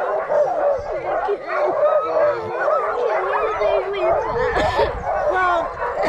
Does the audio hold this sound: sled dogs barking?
yes